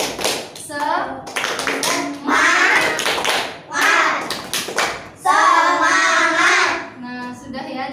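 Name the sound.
rhythmic 'tepuk semangat' clapping chant by pupils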